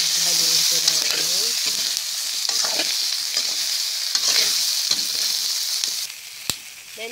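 Chicken feet adobo with bay leaf and black pepper is stirred in a hot pan, its loud steady sizzle running under clinks and scrapes of the spoon, fading slightly near the end with one sharp knock.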